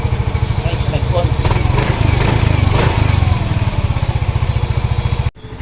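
A motorcycle engine fitted with a two-way anti-theft alarm key idles steadily up close, a loud, even putter with voices talking over it, before cutting off abruptly near the end.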